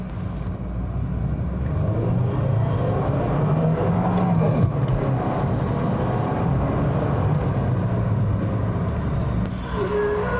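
A Mercedes W202 with a freshly rebuilt engine pulls away with a rising engine drone and road rumble heard from inside the cabin, steady and moderately loud.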